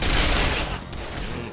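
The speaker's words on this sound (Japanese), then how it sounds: "バシュロンがそろそろマシンガンのレベル上がりそうだったんで、多分これで上がるんじゃないかな" Machine gun fire in the action video game End of Eternity, a dense rapid burst that is loud at first and then tapers into a rattling tail, with no talking.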